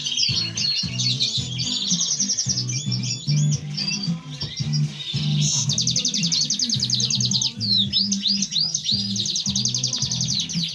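Greenfinches from a British breeding setup chirp and twitter continuously and fairly close, their busy trilling song running over a steady low hum throughout.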